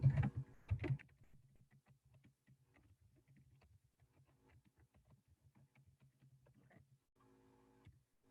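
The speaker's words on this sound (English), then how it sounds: "I'm actually going to type it into the chat here" Someone types on a computer keyboard in a quiet room: a brief louder flurry of taps, then soft, steady key clicks continuing faintly throughout.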